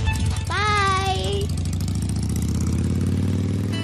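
A motorcycle engine idles with a steady, low, throbbing rumble. A brief voice rises over it early on.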